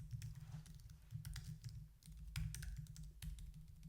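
Fingers typing on a computer keyboard while entering keyword research into a spreadsheet: soft, close clatter of key presses in quick irregular bursts over a low steady hum.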